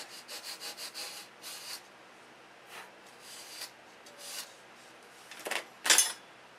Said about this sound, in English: sand that center rib down a little bit.